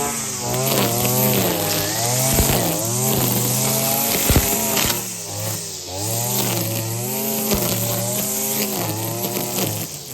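A small Holzfforma 541 RS petrol brush cutter, a copy of the Husqvarna 541, runs continuously, its two-stroke engine revving up and down in repeated waves, close and loud.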